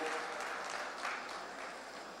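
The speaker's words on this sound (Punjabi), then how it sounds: "ਇਸ ਗੱਲ ਲਈ ਤਾੜੀਆਂ ਇੱਕ ਵਾਰੀ ਜ਼ੋਰਦਾਰ ਕਿ ਪੰਜਾਬ ਨੂੰ ਇਹਨਾਂ ਨੇ ਚੁਣਿਆ" Audience applause at a public address in Punjab, a steady dense wash of clapping that holds at an even level throughout without a break.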